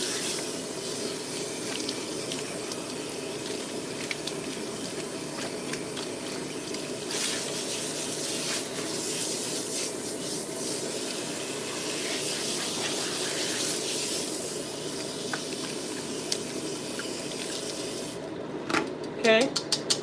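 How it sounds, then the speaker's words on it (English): Running water from a tap rinses a protein treatment out of a client's hair, a steady close gush and spray with splashing shifts, and a voice speaks over it. "You want to make sure you rinse that protein really,"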